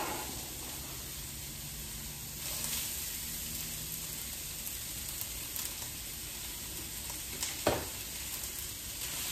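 Onion and celery frying in hot oil for stuffed peppers, a steady broadband sizzle running throughout with a few soft stirring bumps and one sharper clack near the end, no voices.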